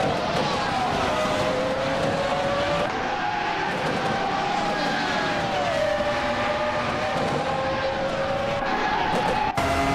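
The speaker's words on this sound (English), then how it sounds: "Bot Cheese and Dashour is in 8th place driving a Williams FW18" Race cars scream through a racing video game, with a dense, continuous whine of high-revving engines, pitch sliding up and down through gear changes, and tires squealing in a loud, unbroken wall of sound.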